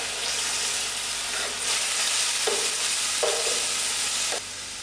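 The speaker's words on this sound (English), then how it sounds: "Allow this onions to fry out." Onions frying in a pan with curry leaf and masala for a fish biryani, a steady loud sizzle and hiss throughout, swelling slightly midway, with a few soft stirring scrapes and no talking.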